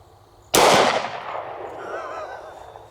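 A single loud, close gunshot from a Springfield 1911 A1 pistol in .45 ACP firing Underwood 230 grain +P jacketed hollow points, a sharp crack that decays into a long ringing tail with faint rumble.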